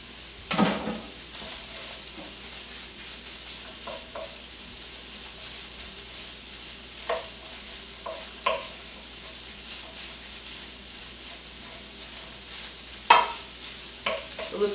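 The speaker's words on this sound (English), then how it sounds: "I'm going to add 1 large purple onion that I have chopped" Chopped large purple onion sizzling in a pan, a steady low fry with scattered stirring scrapes and clicks of a utensil, no voices.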